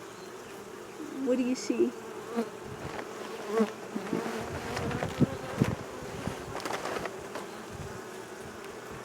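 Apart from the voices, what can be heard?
honeybees buzzing in an opened hive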